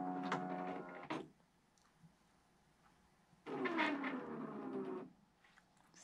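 Computerized quilting sewing machine running a short burst of stitching to pull up the bobbin thread while quilting a border corner, a steady mechanical whir that starts, stops briefly, then runs again for about a second and a half.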